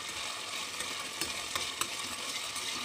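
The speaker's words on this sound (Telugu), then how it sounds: "వీటన్నిటిని వేసేసి బాగా వేయించుకోవాలి." Green chillies, curry leaves and ginger frying in a pan for a meal maker curry and bagara rice, a quiet, steady crackle and sizzle with a few sharper pops and stirring clicks.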